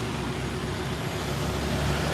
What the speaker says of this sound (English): it's very loud here. There's a bus like that just stopped